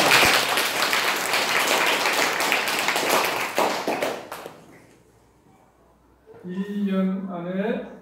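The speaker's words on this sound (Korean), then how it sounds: "참부모님께 우리 뜨거운 감사의 박수." An audience gives warm applause of thanks, dense clapping that fades out about halfway through, followed by a short quiet gap and then someone speaking.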